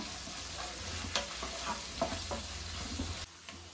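Turmeric powder sizzles in hot oil during a tempering with curry leaves for khara pongal, a steady frying crackle with small stirring clicks and spoon scrapes up close, no talking.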